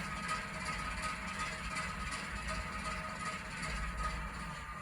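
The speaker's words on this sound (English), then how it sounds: "notch up." Hornby HM7000 model diesel locomotive sound notching up: a continuous, steady engine drone with a low throb and faint rhythmic pulsing. Played at moderate level with no voices over it.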